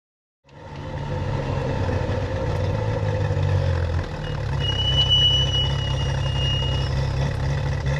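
A Ferrari F355 Challenge car with track brake pads rumbles at a steady idle close by, and a brief thin high squeal rises over the engine about midway before fading.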